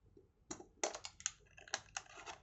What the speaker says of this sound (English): We cut from the side like so, and we cut from another side